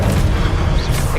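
A short, loud, booming burst of the Expelliarmus spell being cast in the Hogwarts Legacy video game, a single dense blast filling the moment.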